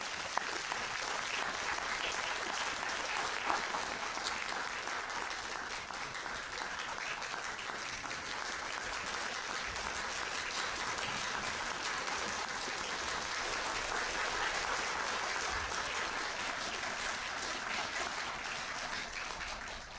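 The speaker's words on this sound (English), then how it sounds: "Let us give a warm round of applause to welcome Khenpo to the stage to give us a lecture." An audience at Taipei University applauds for a lecturer coming to the stage, a long, dense, even roar of many hands clapping, steady from start to finish and somewhat distant.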